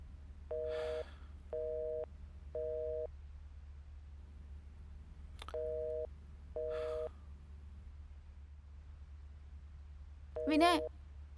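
A phone with no network signal sounds a repeating electronic tone in short beeping bursts, three then two after a pause, followed by a brief vocal sound near the end.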